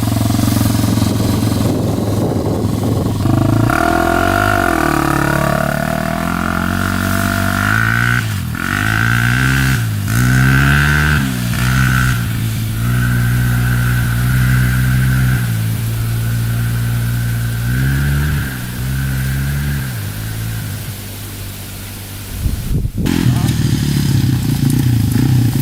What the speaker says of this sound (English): this is the official first ride on the 2005 TTR250